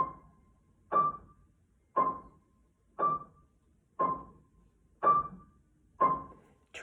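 Seven short, detached piano notes on the same pitch, struck one by one at an even rate of about one per second, each dying away quickly before the next, close and clear with no voices.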